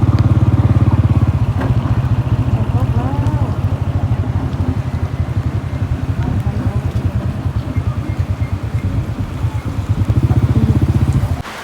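Heavy rain falls at an outdoor market in a steady hiss, under a loud, throbbing engine rumble close by that runs almost the whole time.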